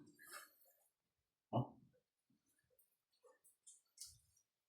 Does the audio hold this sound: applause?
no